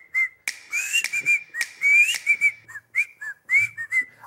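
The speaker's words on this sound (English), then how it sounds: "the simple act of pursing your lips together and whistling will often form the most memorable hook in the song" Whistling through pursed lips in a melodic tune of short, bright notes and gliding pitches, close and clear, with breathy intakes between phrases.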